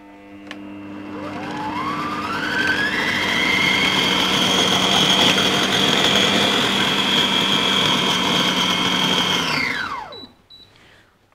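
A kitchen blender churns blueberry ice cream, spinning up with a rising whine to a steady high-pitched drone for several seconds before winding down and stopping, heard close and almost alone.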